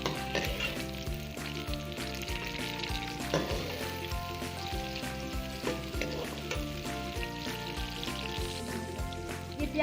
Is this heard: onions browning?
yes